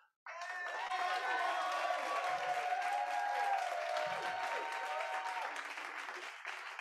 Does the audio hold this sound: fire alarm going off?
no